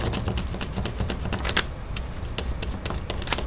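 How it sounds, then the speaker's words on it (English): A crayon is rubbed briskly over paper laid on a texture plate, producing rapid, close, rhythmic scratchy ticks that run continuously, somewhat like fast typing. "And I'm going all the way to the edge of my paper, and I'm making sure to color solid so that there is no white space showing."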